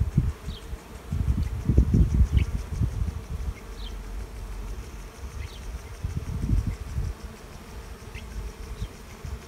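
A honey bee swarm buzzes steadily and loudly around the hive frames, holding a dense, continuous drone that swells and fades with the swarm's movement, with no voices.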